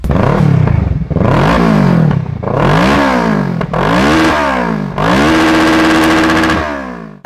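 Motorcycle fitted with an Akrapovic full-system exhaust revving hard in five loud, close bursts, each rising and falling in pitch with a crackling exhaust note, the last burst held longest.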